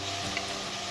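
Ají chili pepper sizzling in a frying pan beside fish, a steady soft frying hiss with light stirring scrapes, close and continuous for under a second.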